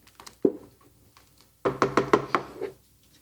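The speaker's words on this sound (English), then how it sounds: "let's stir it one more time" German vegetable soup with meatballs being stirred in a pot, a spoon knocking and scraping against the pot in a quick run of close, sharp clacks after a single earlier knock.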